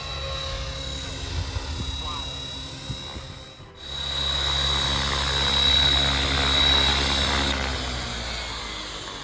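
An RC helicopter flying outdoors gives a continuous buzzing rotor and motor drone with a high whine, briefly dipping before swelling louder and nearer as it passes.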